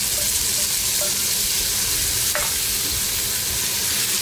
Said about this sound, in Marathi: सगळ्या भाज्या कांद्यासोबत आपल्याला परतून घ्यायच्या आहेत।